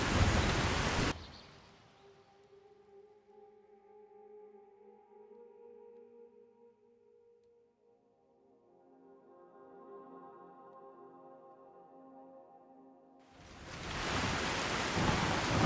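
Rain and thunder in the video game Skyrim: a loud, hissing downpour that cuts out early, leaving a quiet stretch of low tonal music, before heavy rain surges back near the end.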